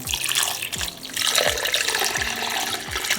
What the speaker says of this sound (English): Then we're gonna add about 2 to 4 cups of water